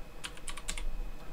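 Quick typing on a computer keyboard during a timed online quiz game, a short burst of soft, close key clicks.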